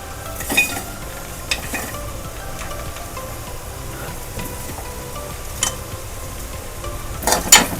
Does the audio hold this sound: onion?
yes